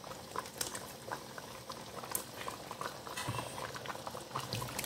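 A pot of village-style goat curry with coconut milk and pisang kapas bananas bubbles at a steady simmer, with close, continuous popping and gurgling and no talking.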